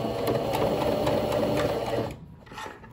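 A sewing machine runs steadily, stitching a fabric football boot bag, its fast mechanical rattle continuous for about two seconds before stopping, followed by a brief softer handling sound.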